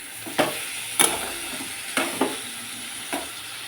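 Shredded cabbage fries in a hot pan with a steady sizzle, broken by about five sharp scraping stirs at uneven intervals, close and without talk.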